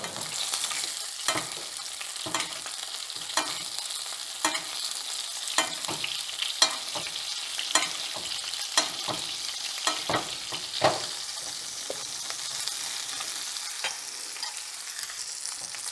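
Lamb loin chops sizzling in butter with minced rosemary in a cast iron skillet, a continuous fry with rhythmic spoon clicks as hot butter is basted over them, about one tap per second.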